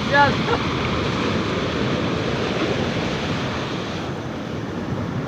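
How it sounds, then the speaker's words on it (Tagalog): Big ocean waves crash on a shore, a continuous broad roar of surf with wind buffeting the microphone and no pause, loud and close throughout. "Bagsak naman na walaking alon."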